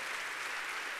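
Congregation applauding during a Baptist church evening service, a steady, dense wash of clapping filling the whole brief moment with no speech over it.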